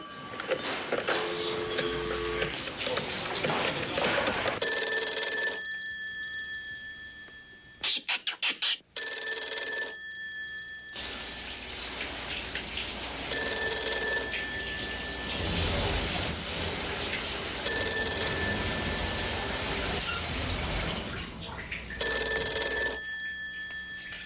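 A telephone rings in bursts of trilling bells, several rings separated by short pauses, fairly close and clear over a quiet room with faint background noise.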